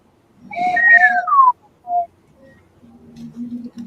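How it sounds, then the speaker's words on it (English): A whistle blown in a sharp two-tone burst that slides from high to low, followed by a short chirp and then low rumbling background noise. "But what does this whistle sound like to you?"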